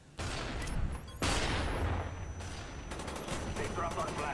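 Gunfire rattles through a Call of Duty: Black Ops match on the Firing Range map, with loud bursts of shots, a sharp new volley about a second in and continuous firing after it. Faint voices sit under the shooting.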